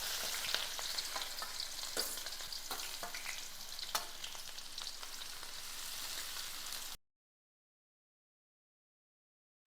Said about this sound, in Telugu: ఉల్లిపాయలు కొంచెం ఫ్రై అయింది.